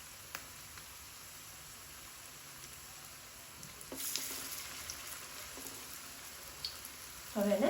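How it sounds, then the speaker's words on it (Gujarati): Soft, steady sizzle of food shallow frying in a little oil in a pan at home, a faint continuous hiss with a few small clicks and a brief louder clatter at the end. "હવે એને તળાવા મતલબ સેલો ફ્રાય જેવી થવા દઈશું."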